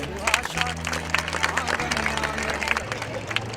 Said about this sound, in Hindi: यहाँ पे इन बच्चों के लिए प्लीज एक बार ताली बजा दीजिए